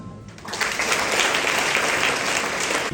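An audience breaks into applause after a brief pause, the clapping swelling quickly and holding steady and full for a couple of seconds.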